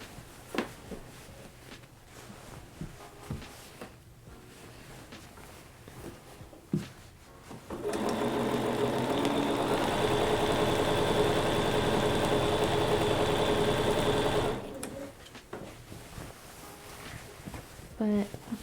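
A Juki sewing machine runs in one steady, continuous stretch of several seconds in the middle, with quieter, sparser sounds before and after.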